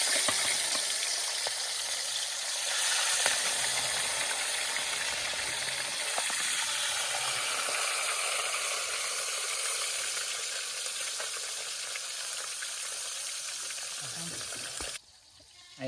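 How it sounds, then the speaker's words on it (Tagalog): Fish frying in hot cooking oil, a loud, dense, continuous crackling sizzle held close for about fifteen seconds before dropping off abruptly near the end. "habang nagpiprito tayo nung ibang kasamahan nitong isda"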